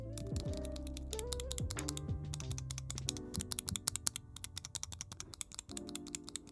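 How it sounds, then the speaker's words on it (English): A mechanical keyboard switch tester gives rapid, crisp clicks and clacks in quick irregular bursts, close up, with no talking. "This is my mechanical switch tester"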